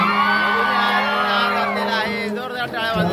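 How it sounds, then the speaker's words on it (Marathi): Wedding guests cheer and whoop loudly as a crowd, a dense continuous roar of voices with steady tonal music beneath. "जोरदार टाळ्या वाजलेल्या आहेत"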